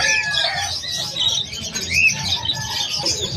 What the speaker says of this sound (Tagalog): Ang dami manok oh. Ang lalaki.